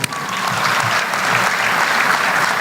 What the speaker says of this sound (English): That's a big round of applause right there.